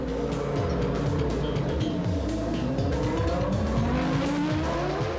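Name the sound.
Stewart Ford Formula One race car on track during winter testing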